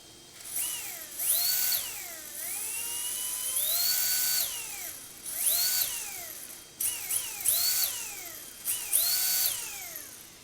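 An RC motor driven by an ESC spins clockwise in repeated throttle bursts, each a rising and falling electric whine with a high-pitched drive tone, loud and close, with short pauses between runs.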